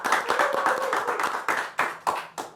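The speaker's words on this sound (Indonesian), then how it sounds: "tepuk tangan." A crowd applauds, a dense patter of claps that swells and then breaks into several short bursts before fading out.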